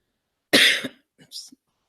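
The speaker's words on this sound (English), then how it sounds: "my cough is picking up this evening." A lone cough from a lecturer teaching on the Heart Sutra: one harsh burst followed by a shorter, softer cough, close to the microphone in an otherwise quiet room.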